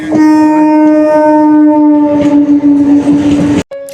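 A train at Bandel railway junction sounds a loud, sustained horn close by, a steady tonal blast lasting several seconds before cutting off abruptly, with station rumble beneath.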